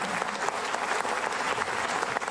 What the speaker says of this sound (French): Merci beaucoup pour ces applaudissements de ce passage